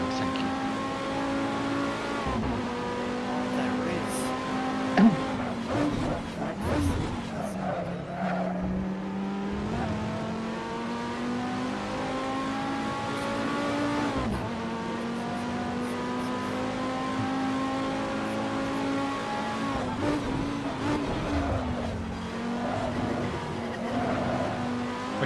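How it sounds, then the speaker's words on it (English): BMW E30 M3 race cars in a sim racing game sweep past the pits at Zolder, engines rising and falling in pitch as each one roars by, with tyre squeal and a continuous loud drone. "When you sat in the pits and the cars are going past, that sound great."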